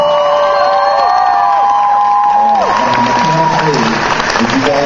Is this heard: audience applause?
yes